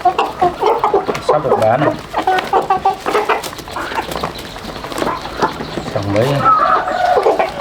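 Farm chickens cluck and squawk in a busy, close flock, with a person talking over the continuous clucking.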